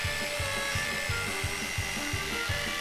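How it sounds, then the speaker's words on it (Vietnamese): A power drill bores a hole in wood with a steady whir broken by regular grinding pulses, several bursts in quick rhythm at moderate loudness. "Hãy xem người mạnh tới cỡ nào với chiếc máy khoan này. Phải vậy chứ, nó đang khoan một lỗ."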